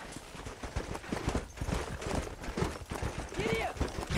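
Steady hoofbeats of a horse galloping in the Western video game Red Dead Redemption, a quick rhythmic clip-clop under continuous game sound and a shouted voice.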